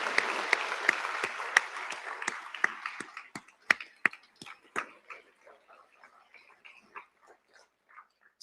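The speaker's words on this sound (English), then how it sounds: "Let's give him a round of applause." Applause from an audience at a Forty Under 40 awards event starts as a dense burst, then thins into scattered, separate claps that fade away over several seconds.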